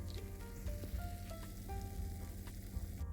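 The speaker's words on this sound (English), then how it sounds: "Can you hear that sizzle?" Fresh matcha palmiers hiss and crackle on a hot baking sheet straight from the oven, a steady close sizzle over a low rumble of outdoor power-washing noise.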